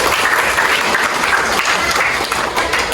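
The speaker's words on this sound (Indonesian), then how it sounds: "tepuk tangan untuk Yeni." A room full of people at an Indonesian teaching session claps steadily for a few seconds, a dense, even round of applause.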